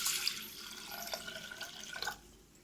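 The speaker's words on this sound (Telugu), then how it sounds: "వాటర్ వేసుకుందాము" Water poured into a pot of raw toor dal (pigeon pea lentils) for pappu charu, a soft, close splashing trickle lasting a couple of seconds before tapering off.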